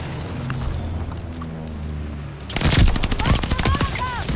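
Video game bombing run hits with heavy booms and rapid bursts of gunfire, loud and close, erupting after a quieter stretch of low rumble and faint background voices.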